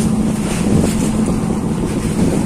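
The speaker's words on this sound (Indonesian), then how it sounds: "Ini adalah kapal yang menyelamatkan saya tadi teman-teman" Rescue boat at sea in strong wind after a storm, with loud wind buffeting the microphone over a steady low engine rumble and splashing water, continuous throughout.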